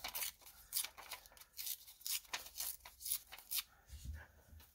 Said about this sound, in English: Give this a tear.